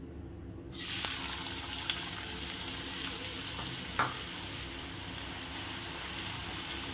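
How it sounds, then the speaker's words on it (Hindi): Two finely chopped onions hit hot oil for masala pav and burst into a sudden sizzle, then settle into a continuous frying hiss with a couple of small utensil taps. "आता आपण तेलामध्ये 2 बारीक चिरलेले कांदे ॲड करूया"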